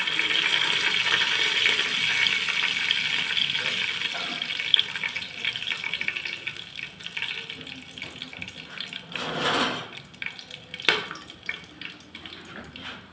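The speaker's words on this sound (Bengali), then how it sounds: "আমার তেল গরম হয়ে গেছে, আমি এবার এতে গোটা গরম মশলাগুলো সব দিয়ে দিচ্ছি।" Whole garam masala spices dropped into hot oil for a mutton stew, a steady close sizzle and crackle with a louder burst of frying partway through, then clattering stirring.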